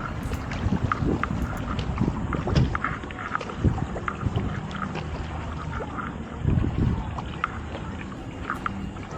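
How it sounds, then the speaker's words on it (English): A boat creeps slowly toward a paddleboard on open water near Peanut Island, with low rumbling and water sloshing mixed with gusty wind noise on the microphone, steady throughout. "there's this boat here sneaking in on me"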